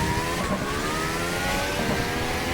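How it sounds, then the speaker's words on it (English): Formula 1 car from the 2014 turbo era in the rFactor racing game, turbo whine and engine note rising steadily in pitch under acceleration, a continuous synthetic roar with no speech. "really get some great turbo and motor noises"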